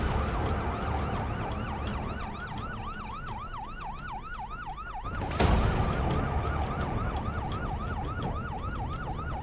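A police patrol car siren wails in repeated rising and falling sweeps, steady and fairly close over road noise, with a brief burst of louder noise partway through.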